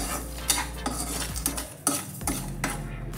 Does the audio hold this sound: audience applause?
no